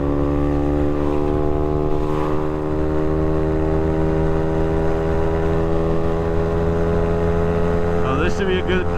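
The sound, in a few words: Honda Navi motorcycle engine accelerating on freeway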